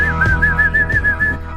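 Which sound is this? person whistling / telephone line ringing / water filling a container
person whistling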